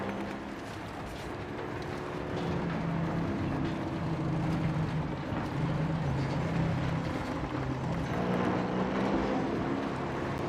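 Patrol boat engine in Modern Warfare 2, a steady loud low drone with a rising churn that swells and holds throughout, with faint game ambience around it.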